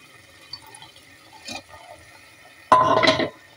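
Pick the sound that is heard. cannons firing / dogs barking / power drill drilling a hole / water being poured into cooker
water being poured into cooker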